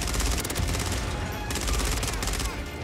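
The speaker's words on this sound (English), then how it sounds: "And the hip fire is good on this SMG as well." An ISO 9mm submachine gun fired from the hip in Call of Duty MW3 rattles in continuous rapid bursts, loud and close, with a brief pause partway through before firing resumes.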